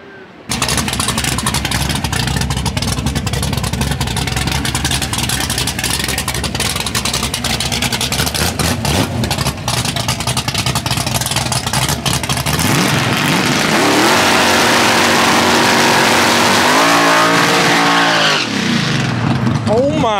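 A twin-turbo, stick-shift Ford Crown Victoria makes a drag racing pass: a loud, continuous engine roar fills the whole stretch, then rising and falling revs sweep through the gear changes near the end.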